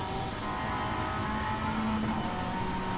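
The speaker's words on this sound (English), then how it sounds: "Listen to the engine, the exhaust note." Race car in a racing video game, its engine and exhaust giving a sustained raspy, buzzing drone at steady high revs, loud and close with no talk.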